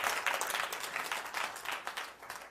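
A church congregation claps and applauds in praise, a steady, dense patter of many hands that carries on for the whole stretch at moderate loudness, with no voices standing out.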